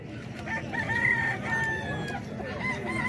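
A white chocolate Peruvian rooster gives a drawn-out crow close by, clear and moderately loud, with faint clucking and a soft background hum throughout.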